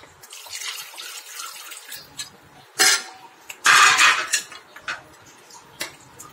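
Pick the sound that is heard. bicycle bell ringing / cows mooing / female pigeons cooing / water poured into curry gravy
water poured into curry gravy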